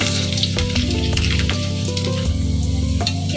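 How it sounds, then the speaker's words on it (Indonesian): Chopped onions sautéing in a pan over low heat, a steady close sizzle with soft crackles and occasional stirring scrapes, with a low hum running underneath. "Kita tumis sampai sedikit harum"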